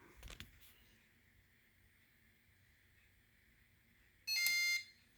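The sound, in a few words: Simplex fire alarm sounding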